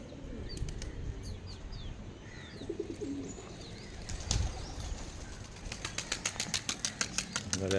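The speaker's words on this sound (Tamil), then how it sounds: "நிறையா புறாக்கள் சேலுக்கு இருக்குது நம்மகிட்ட" Racing homer pigeons in a loft at Ramanathapuram coo softly and chirp nearby over a low engine hum. Wings clap and flutter in quick bursts, growing busier toward the end.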